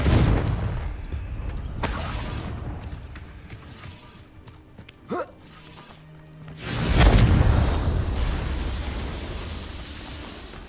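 A Confringo blasting spell goes off in Hogwarts Legacy, a sudden roaring explosion that swells loud and close near the end, with a sharp crackling burst and lingering rumble after quieter rustling game ambience.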